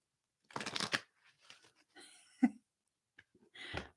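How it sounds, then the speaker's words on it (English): A deck of playing cards riffled in a quick burst, then a few faint handling rustles and a short second riffle near the end, close and fairly quiet with no talk. "One more shuffle."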